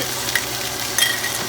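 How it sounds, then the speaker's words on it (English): Celery and other vegetables saute with thyme and bay leaves in a pot for braised short ribs, sizzling steadily with a couple of brief stirring scrapes and no talk. "I'm going to saute for another about 2 minutes"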